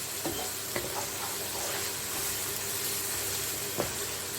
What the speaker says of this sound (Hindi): इसको थोड़ा सा भूनेंगे।